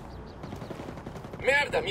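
Gunfire in a Ghost PVP video game match, a rapid scatter of faint shots under game noise and a voice, with a louder burst near the end.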